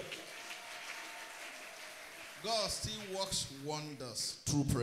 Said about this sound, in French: On acclame fortement pour le Seigneur.